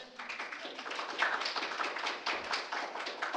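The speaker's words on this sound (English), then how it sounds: "you can go ahead and applause. You can applaud." A small audience at a festival talk on character building gives a round of applause: a dense, even patter of many hands clapping, fairly faint and sustained for several seconds with little talk.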